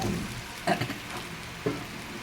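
Fried potatoes tossed into a sizzling spice masala with turmeric and salt: a steady close-up frying hiss broken by two distinct stirring clatters about a second apart, with no speech.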